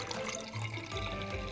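Water poured into a jar for a simple liquid-mixing science demonstration, a steady splashing pour running continuously and close for about a second and a half, with no talking.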